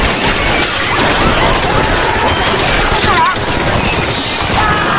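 Gunfire in an action film as a soldier shoots at attacking balls, heard as a dense, loud, continuous crackle of shots and crashes that fills the whole stretch.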